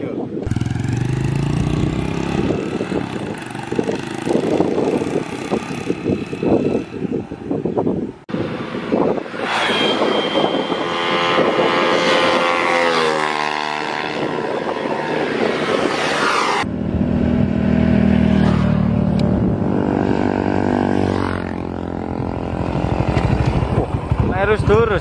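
A Honda C70 motorcycle bored up to 150cc roars steadily on a test ride, its engine note rising and falling through gear changes under constant wind rush, with people talking over it.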